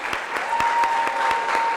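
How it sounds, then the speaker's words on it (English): At a neighborhood center ribbon-cutting, a crowd gives a steady round of applause for the board members, with a few sharper claps close by standing out against the dense clapping behind them. "Can you please give a round of applause for my board?"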